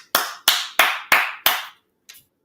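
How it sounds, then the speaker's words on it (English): Five sharp, evenly spaced hand claps ring out close and loud in quick succession, followed after a short pause by a softer sixth clap, with no talking. "Everybody clap for all the healthy vegans."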